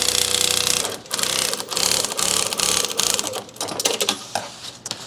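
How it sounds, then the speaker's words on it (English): A sewing machine runs in bursts while stitching over a backpack strap, its fast mechanical chatter loud and close, pausing briefly between runs with some handling clatter. "Gotta hold it down really tight when I sew over it because it wants to move."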